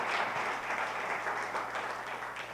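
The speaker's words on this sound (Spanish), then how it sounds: "¿Cuánto le damos un aplauso al Señor?" A church congregation applauds during a sermon, a steady wash of clapping that holds from start to finish, with no voices over it.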